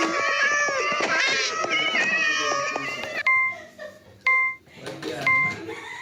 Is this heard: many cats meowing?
yes